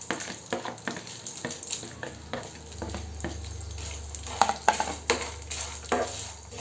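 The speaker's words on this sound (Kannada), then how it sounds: "ಎಲ್ಲ ಒಟ್ಟಿಗೆ ಹಾಕ್ಕೊಂಡು ಫ್ರೈಯನ್ನು ಮಾಡ್ಕೊಳ್ಳಿ" Spices and coconut frying together in a pan for a red chutney, a steady close sizzle broken by repeated scraping and clinking strokes of a spoon stirring, with no voices.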